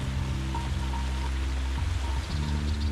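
The clear, oxygenated Rolinhos stream in the Serra da Canastra flows steadily, a continuous close wash of running water with a low steady hum beneath it, no voices.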